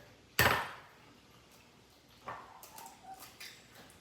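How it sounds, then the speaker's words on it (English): An egg is cracked against a bowl and dropped into a separate bowl of egg white for a meat pastry glaze, with one sharp close crack followed by fainter taps and small knocks. "This other egg, I'm going to crack into this egg white here."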